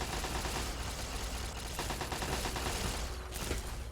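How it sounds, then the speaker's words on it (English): Continuous gunfire rattles through a Fallout: Tale of Two Wastelands battle, rapid bursts layered over each other at moderate distance for the full four seconds, with no talk. "What are you guys shooting at?"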